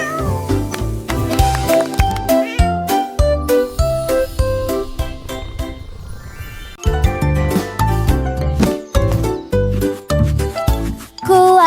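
A cartoon cat meows loudly several times over a bright, bouncy children's song with jingling percussion, the meows blending into the dense music.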